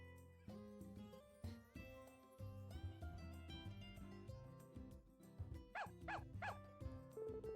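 Stray dogs bark in the video game Story of Seasons: A Wonderful Life, giving a few short yips over soft background music.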